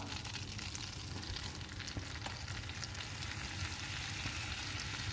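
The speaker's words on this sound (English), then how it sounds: "Give it a stir and cook your flour in this butter." Flour cooking in butter in a pan for a chicken rice casserole sauce, a dense, even sizzle with occasional light stirring taps, steady and close with no talking.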